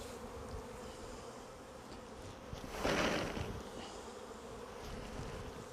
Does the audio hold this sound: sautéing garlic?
no